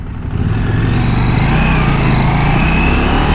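A KTM 790 Duke motorcycle engine droning loud and close as the bike rides, a steady throaty hum with slight pitch shifts as the gears change, with wind noise and no talk.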